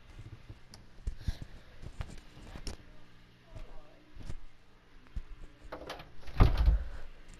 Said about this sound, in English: Closed my door.